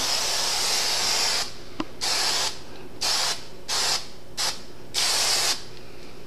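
Glue sprayed from an upside-down aerosol can: a series of short, close hissing bursts of uneven length separated by brief pauses, with a faint click partway through.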